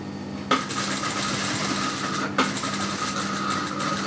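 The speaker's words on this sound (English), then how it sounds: "I'm just going to sew around. So we're doing a seam on top of the initial seam." A sewing machine stitches a seam along lace edging on a beaded neckline piece, running steadily and loudly up close for about four seconds with a brief restart partway through, no voices over it.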